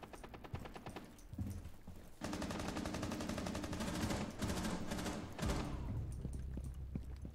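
Gunfire in the video game Rainbow Six Siege: rapid automatic bursts, dense and loud, running for several seconds with short pauses and a few single shots.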